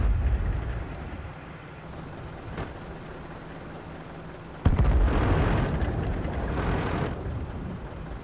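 A tank is destroyed in World of Tanks, an E25 tank destroyer in play: low engine rumble, then a sudden loud blast around the middle that rolls on with crackling debris and fire for a few seconds.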